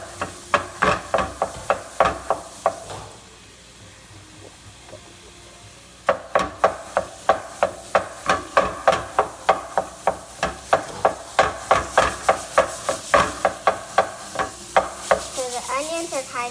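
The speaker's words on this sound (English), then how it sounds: "Now we are gonna chop off the ground beef. You gotta make sure you chop it up really well." A utensil chops and scrapes through ground beef mixed with onions in a pan for chili. The knocks come in a steady, close, loud rhythm, pause briefly with a sizzle beneath, then resume faster.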